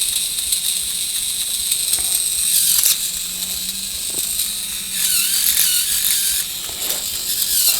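A TOMY Thomas and Friends toy train with a slipping axle gear runs on its motor, giving a steady, close, high-pitched mechanical whir with gear chatter and rattling ratchet-like clicks that swell and fade slightly over several seconds.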